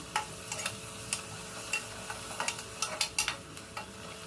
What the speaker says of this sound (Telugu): కొద్దిగా అల్లం వెల్లుల్లి పేస్ట్ వేసుకుందామండి ఒకసారి కలుపుకుందాం